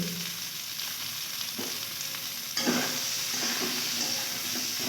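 Eggplant sizzles steadily as it fries in a little oil with salt, a continuous close hiss that swells slightly louder partway through, with faint stirring clinks.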